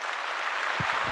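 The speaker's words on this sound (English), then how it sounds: "give yourselves a round of applause," A crowd at a realtors' board gathering gives a round of applause, a dense, steady patter of many hands clapping throughout at an even level.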